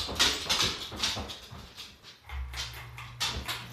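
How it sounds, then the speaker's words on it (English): Several dogs walk across a laminate floor in a near-empty house, their claws ticking in quick irregular clicks, with a low hum coming in partway through. "You can hear all the dogs walking because there is laminate"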